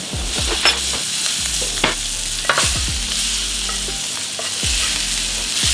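Wagyu steak sears in a hot pan with garlic, giving a steady close sizzle broken by several sharp clanks and scraping strokes as the meat is turned and moved.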